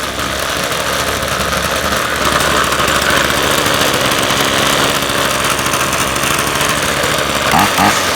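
A Ryobi 2-cycle gas string trimmer engine runs steadily after starting, a loud, close, buzzing drone that holds an even idle throughout with a brief change near the end.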